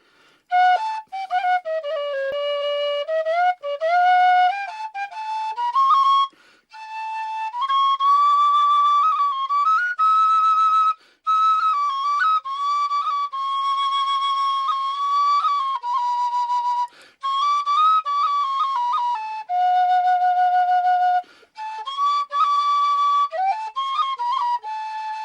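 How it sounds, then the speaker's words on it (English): The Irish tune The Coolin played on a tin whistle, a solo melody of sustained, ornamented high notes with short breath pauses between phrases, clear and close with no accompaniment. "he used to love to listen to the Coolin played on the fiddle or the whistle"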